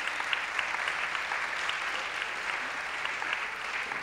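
Conference audience applauding students and young professionals, a dense, steady wash of many hands clapping from a distance, fairly soft and even throughout without talk.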